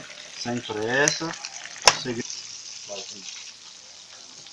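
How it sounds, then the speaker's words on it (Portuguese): Rice sautéing in a pan sends up a steady, close frying hiss with a sharp clink partway through, while a voice speaks briefly over it. "Vamos lá, vamos deixar ele refogar bem."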